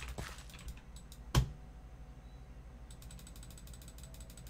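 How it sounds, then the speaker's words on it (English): A single sharp computer mouse click during a relaxed Astroneer game stream, standing out once against a low steady hum and faint background clatter. "Can you hear me click at this stupid thing?"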